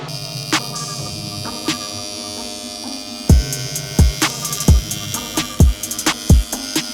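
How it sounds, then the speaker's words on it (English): A carbide bit in a rotary grinder works a cracked Honda K20 engine block, a junk spare. It gives a steady high-pitched whine and buzz with a run of sharp, loud knocks and bursts of contact in the second half. "Yes, I know this is the wrong carbide bit for this."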